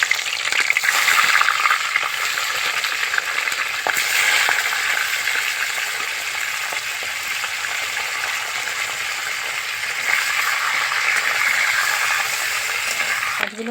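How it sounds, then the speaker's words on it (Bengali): Gagra fish frying in hot oil for a spicy jhal curry, giving a loud, steady, dense sizzle that runs without a break, with a few faint clicks and stirs over it. "বাকি মাছগুলো আমি একইভাবে ভেজে নেব।"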